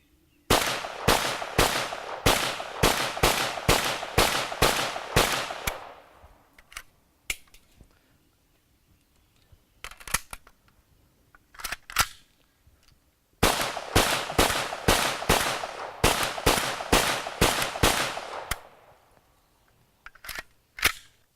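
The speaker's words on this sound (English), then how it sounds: "I'm going to show you a mag change on this." Magazine change on a Pioneer Arms PPS43C rifle, heard as a rapid string of sharp metallic clicks and snaps, then a quiet pause with a few isolated clacks, then another fast burst of crisp clicks, close and with no talking.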